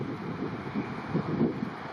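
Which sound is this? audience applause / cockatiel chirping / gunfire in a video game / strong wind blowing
strong wind blowing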